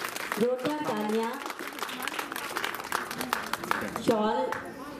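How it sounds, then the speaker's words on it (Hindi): Applause from the audience at an education institute's annual celebration, a steady patter of many hands under a speaking voice that carries over the clapping. "जोरदार तालियां।"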